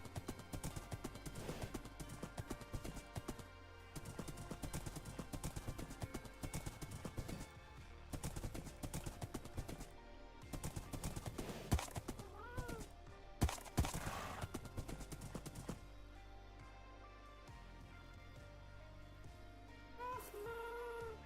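Rhythmic horse hooves clip-clop through a video game soundscape, mixed with dense background music and game effects, continuing steadily for about twenty seconds with no talking.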